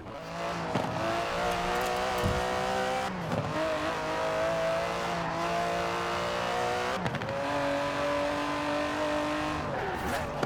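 Aston Martin DB11 driving in Forza Horizon 4, its engine droning steadily with rising and falling revs and gear changes near 1, 3 and 7 seconds, loud and continuous with faint tire noise.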